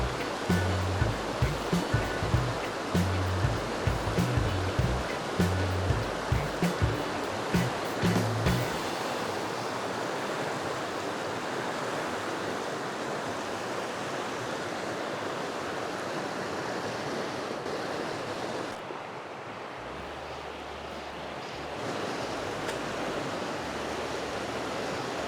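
Rushing river rapids roar as a steady, loud wash of whitewater at a fly-fishing spot, continuous throughout with no talk, after a few faint thumps near the start.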